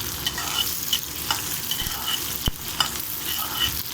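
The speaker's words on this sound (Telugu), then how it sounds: "ఆనియన్స్ వేసుకుంటున్నామండి. కరివేపాకు కూడా వేసుకుందామండి." Sliced onions and curry leaves frying in hot oil, a lively close sizzle broken by repeated scraping and stirring knocks, with one sharp clack midway.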